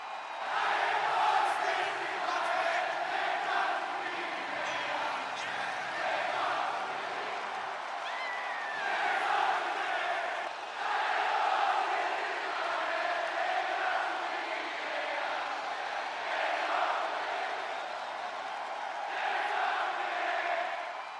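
A large arena crowd in the WWE 2K26 wrestling game sings along in a sustained roar during a wrestler's entrance, a dense continuous wall of voices with swells and cheers throughout.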